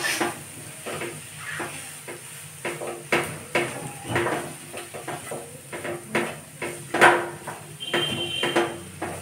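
Mixture stirred in a pan on a gas stove while making a veg club sandwich, with scraping, clinking utensil strokes and light sizzle in irregular bursts, followed by a click as the gas is turned off.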